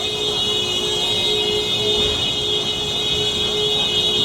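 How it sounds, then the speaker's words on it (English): A continuous, unbroken horn blare over constant street noise, loud and steady throughout. "It's like non-stop honking for some reason."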